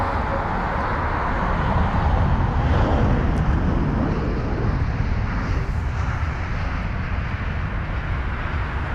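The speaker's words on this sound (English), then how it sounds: "There's the Boeing 777-300ER, just taxiing to 27 left for its departure." A Boeing 777-300ER jet taxiing toward runway 27 left at London Heathrow, a steady broadband engine roar holding at a constant loud level from some distance, with no voices.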